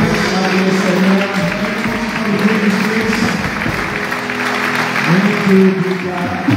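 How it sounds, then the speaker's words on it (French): A church congregation claps hands loudly and steadily throughout, a dense wash of applause mixed with singing and music from a worship service. "vamos bater nas mãos de forma bem forte"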